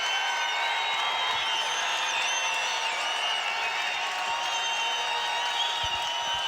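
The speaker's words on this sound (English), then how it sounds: "Listen to this crowd." Basketball arena crowd at an NCAA men's college game in Wyoming roaring in a steady, loud, continuous wash of cheering with no pauses, sustained from start to end.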